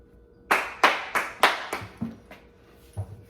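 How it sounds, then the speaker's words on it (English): Hand clapping: about six sharp, close claps in a fairly even rhythm, growing softer toward the end, followed by a faint thump. "So I'm going to try the clapping thing again."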